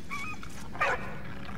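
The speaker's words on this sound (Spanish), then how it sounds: "Ven aquí, perrito." A dog in the World War I video game Valiant Hearts: The Great War gives one short bark or yelp partway through, heard over a steady background hum with no talking.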